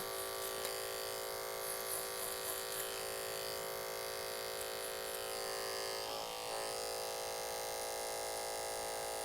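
Continuous high-pitched electric buzz of hair clippers running close by while tapering the back of a client's hair, steady throughout with slight changes in tone as the clipper moves against the hair; no talking.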